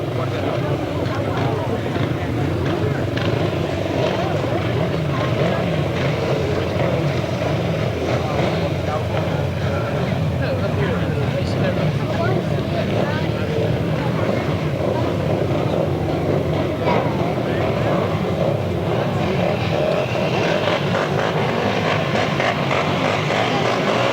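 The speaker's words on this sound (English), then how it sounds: "We stay with the left-hand sidecars as we cross the page to race 11." Left-hand sidecar motorcycles race on a grass track in 1995, their engines roaring in a steady, continuous drone that carries for the whole stretch without a break.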